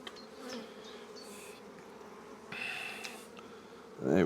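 Honey bees buzz in an open, crowded hive near swarming, a dense steady drone with a few louder bees passing close.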